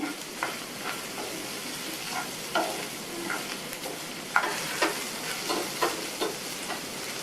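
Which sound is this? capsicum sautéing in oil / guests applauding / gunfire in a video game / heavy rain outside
capsicum sautéing in oil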